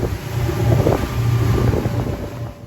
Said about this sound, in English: we leave Roku Island and cross this channel on a very windy day